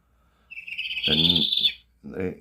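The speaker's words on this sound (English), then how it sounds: "101 is a northern parula." A northern parula song plays from a printed bird sound book: a thin, rising buzzy trill held for about a second, followed by a brief lower note.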